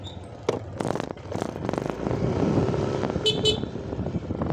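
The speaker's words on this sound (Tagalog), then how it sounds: "Ganda ng busina niya" A vehicle horn honks in street traffic over a steady road and engine rumble, with scattered knocks and rattles nearby.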